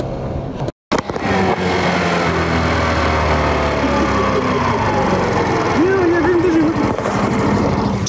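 Motorcycle engine running steadily, a loud continuous rumbling drone close by after a brief cut near the start, with a faint tonal squeal later and someone talking over it.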